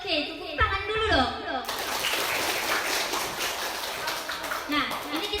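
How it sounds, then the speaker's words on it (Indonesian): Audience applause at a community outreach competition, a broad wash of clapping that starts after a short bit of speech and continues steadily to the end, with some voices mixed in. "Oke, tepuk tangan dulu dong."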